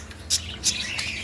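Pet parakeets give a few sharp chirps, three quick bright calls spaced evenly over about a second, close by against a faint background hum.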